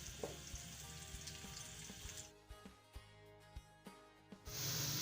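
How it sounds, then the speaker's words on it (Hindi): Chopped onions fry in hot oil in a kadai with a steady sizzle and crackle, punctuated by scattered soft pops and stirring knocks; the sizzle dips midway and then swells again. "प्याज की हम थोड़ी देर भुनाई करेंगे।"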